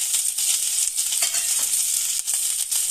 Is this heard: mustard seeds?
yes